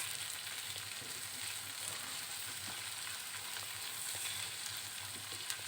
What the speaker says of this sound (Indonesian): Tinggal ditumis aja sampai agak layu ya Bunda.